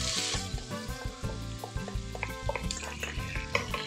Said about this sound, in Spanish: Ahora, esto le vamos a poner un poquito de aceite. Vamos a ponerle cebolla que ya está picada